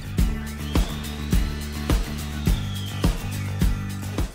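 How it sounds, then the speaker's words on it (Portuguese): A stand mixer whips nine egg whites toward stiff peaks with a steady motor whir and a regular rhythmic thump about twice a second, played close and alone. "A gente começa colocando as claras na batedeira. 9 claras. E batendo em ponto de neve."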